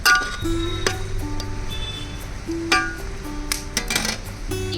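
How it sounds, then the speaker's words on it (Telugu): A few sharp metallic clinks of a lid being set on a pot of green chilli chicken pulao, with a steady hum and some scattered kitchen clatter. "మూత పెట్టి ఉడికించుకుందాము"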